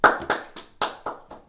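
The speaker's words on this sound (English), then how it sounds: "Everybody clap your hands." Several sharp hand claps ring out, close and fairly loud, spaced unevenly in a short burst with no talking.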